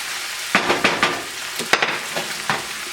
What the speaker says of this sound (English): now we're going to throw our onions in